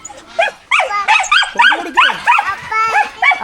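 A dog barks in short yips mixed with whimpers, close and loud, the bursts coming in a quick uneven series with brief gaps between them.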